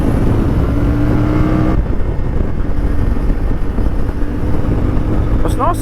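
A CFMoto 450MT motorcycle accelerates on the road, heard from onboard as a steady, rising engine drone buried in heavy wind rush, with a brief shift in tone partway through.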